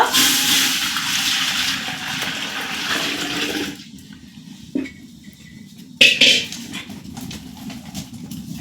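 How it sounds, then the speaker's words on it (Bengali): Strained syrup for banana chewy pie pours into a cooking pot as a loud, close rush of liquid, then tapers off, followed by a few clinks of utensils against the pot. "হাঁড়িতে ছেঁকে রাখা রসটা দিয়ে দিব"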